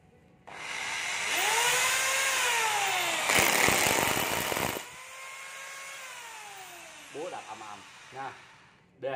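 A Hitachi DH18VB mini hammer drill runs with a close, high whining motor tone that rises and holds for several seconds, roars harder in a rough burst midway, then winds down, followed by a few short revs.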